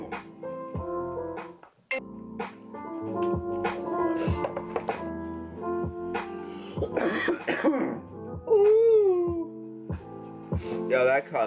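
A person coughs repeatedly after smoking a joint, with harsh bursts and throat clearing scattered over several seconds, close and loud, mixed with talk.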